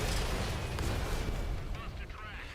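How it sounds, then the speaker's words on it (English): HEAT tank shell explosions roar in a tank battle game featuring the M48A2 120mm, a loud rumbling blast fading into a long low decay, with a voice speaking near the end. "that was a lot of high explosives. Well, not high explosives, but heat rounds in general"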